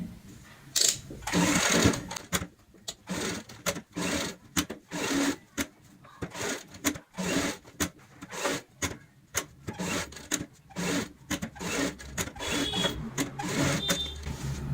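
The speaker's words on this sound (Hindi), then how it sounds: "अब हमें सिलाई से इन्हें अटैच करनी है" A sewing machine stitches cushion cover pieces together in quick repeated bursts, a choppy rhythm of short whirring runs and brief stops, close and clear with no talking.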